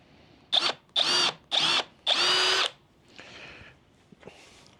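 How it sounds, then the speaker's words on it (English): Four short bursts of a power drill with a 5/16-inch bit whirring up and stopping, the last one longest, followed by faint scraping and handling sounds, in a woodturning shop. "we got a 5/16 drill bit for these"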